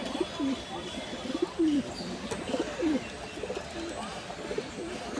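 Pigeons cooing in a coop, several soft throaty coos scattered across the clip over low background noise, close by and moderately loud.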